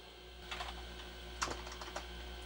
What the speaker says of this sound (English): This keyboard's not much better than the last one.